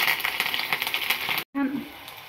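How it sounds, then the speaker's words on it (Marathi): Chopped green chillies spluttering in hot oil with mustard seeds, cumin and curry leaves for Maharashtrian buttermilk kadhi, a steady close crackling sizzle that cuts out briefly before a softer sizzle resumes. "आपल्या मिरच्या छान फुटलेल्या आहेत"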